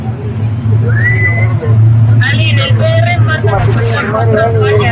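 A noisy crowd with overlapping shouting and a few sharp whistles rising above a steady low rumble, loud and close throughout.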